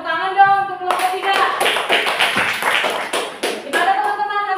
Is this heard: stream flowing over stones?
no